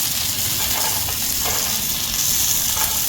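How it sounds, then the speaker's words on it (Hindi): Garlic and green chillies fry in a hot pan, making a dense, loud, continuous sizzle with faint stirring scrapes and no voices. "और इसे भी 1 मिनट तक हम इसी तरीके से इसमें भूनते हैं।"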